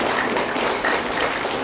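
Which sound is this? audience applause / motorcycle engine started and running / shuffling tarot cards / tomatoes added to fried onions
audience applause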